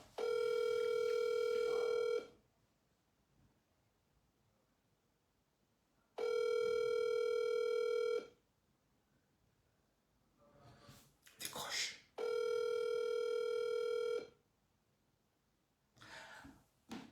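A telephone rings unanswered in three long repeated bursts with quiet gaps between, fairly loud and close, with a brief cough or throat-clearing and rustling between rings.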